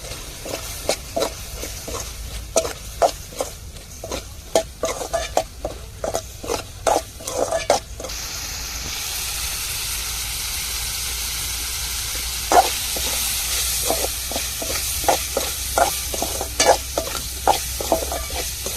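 Prawn fry in a pan gets stirred briskly, giving rhythmic scraping strokes over a constant sizzle, then a stretch of steady hissing frying before the quick stirring picks up again, close and fairly loud.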